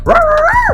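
A human voice imitates a Chihuahua's choked bark, producing one loud, close, whiny yelp that bends upward and then falls away.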